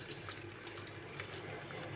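Boiled water poured from a cup into a cooking pot of mussels and crab on a gas stove, a steady close trickling splash with no talk.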